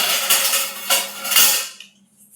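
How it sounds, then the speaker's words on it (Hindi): A spoon scrapes and clinks around a pot of potato milk tea in a few quick, bright strokes, close and fairly loud, before fading to quiet. "मेरी चम्मच से चलाते हैं गाइस।"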